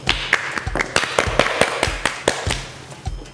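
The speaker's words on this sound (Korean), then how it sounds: "박수 주시오." A small group of people clapping in a studio setting, a few sharp, irregular hand claps over about three seconds, fairly close and without talking.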